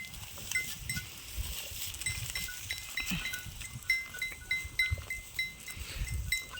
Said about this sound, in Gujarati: આવી ભેંસો તમને ચાક જ જોવા મળશે